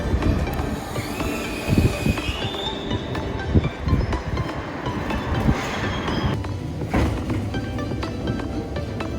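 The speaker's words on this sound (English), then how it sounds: "The vintage train." A vintage train rolls past on the rails in Kamakura, Japan, with rumbling wheels, clicking joints and a high squeal of metal, steady and fairly close for several seconds.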